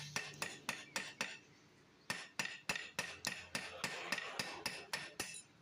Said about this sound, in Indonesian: dengan cara kita palu-palu bagian lubangnya teman-teman